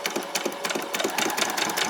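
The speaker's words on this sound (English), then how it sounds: "I'm just going to run backward a few back stitches" A sewing machine runs backward stitches across the gusset of ruffled-bottom shorts. It gives a quick, even mechanical chatter with a rapid rhythmic pulse, close and steady throughout with no talk.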